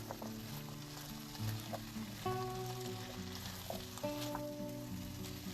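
Potatoes and beef in red chili sauce sizzle and bubble steadily in a pot, a close, quiet, continuous crackle with faint stirring and no voices.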